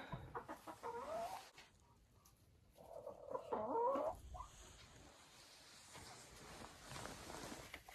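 Chicks and a mother hen in a coop give soft clucks and chirps, with a louder run of calls in the middle, set against a steady background.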